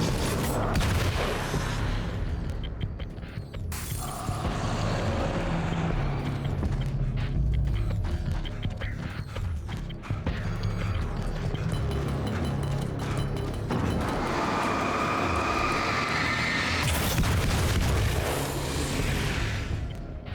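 Automatic shotgun fire in the video game Alan Wake, dense bursts of loud booming blasts with mechanical clatter, continuous and close throughout.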